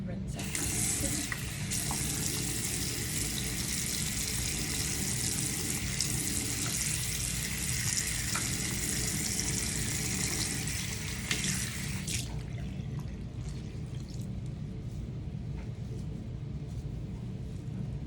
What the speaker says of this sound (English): I'm gonna rinse out the sink.